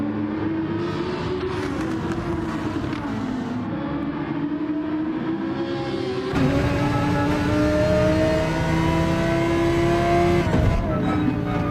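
A DTM race car lapping a track in a sim-racing mini series, its engine droning loud and steady with rising and falling revs through gear changes, a sharp shift in tone midway as another car's note joins in.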